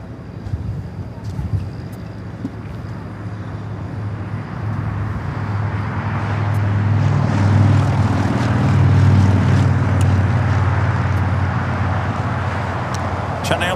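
An El Al Dreamliner airliner takes off at LAX, its jet roar swelling from a distant rumble to a loud, broad peak midway before easing slightly, with faint background traffic.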